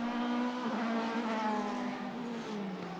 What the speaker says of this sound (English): Michael Roach's car sounds okay, but his lap times are gone way out